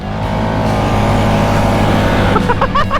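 Can-Am vehicle accelerating hard in a race, engine roaring loud and close with a steady rising drone, then rapid chirps or squeals toward the end.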